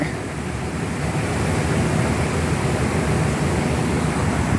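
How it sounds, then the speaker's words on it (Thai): Steady, dense rushing of water pouring continuously, a loud broadband roar with no pauses or voices. "มาเบิ่งน้ำตก"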